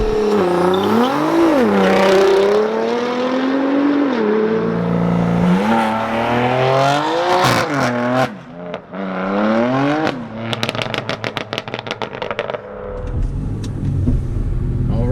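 A powerful Nissan GT-R engine revs up hard and climbs through the gears, loud and close, with brief gaps between shifts and a rising roar.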